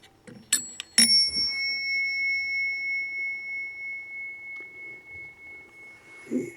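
A telephone ringer with bells of two tones gives a few sharp strikes, then a long ringing tone that slowly decays in a quiet room, with faint handling noises near the end.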